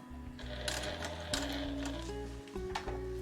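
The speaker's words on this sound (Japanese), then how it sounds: "反対側は上から縫っていって、最後にこの中央の縫い目で重ねていきます。" A sewing machine stitching a fur round tote bag, a quiet continuous mechanical whir with changing pitch as the speed shifts, without talk.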